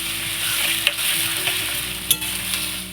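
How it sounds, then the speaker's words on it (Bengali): Onions frying in oil in a home kitchen ahead of chicken biryani: a dense, even sizzle heard close, broken by a few sharp spoon scrapes against the pan, with no one talking. "বিরিয়ানির মাংসটা করব, তার জন্য পেঁয়াজটা ভেজে নিচ্ছি।"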